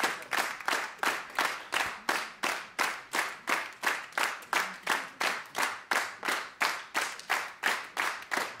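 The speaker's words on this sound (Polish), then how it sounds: "Wielkie brawa." Audience at a jazz concert gives a septet rhythmic, synchronized clapping, even beats repeating about twice a second, moderately loud and steady, with no talking over it.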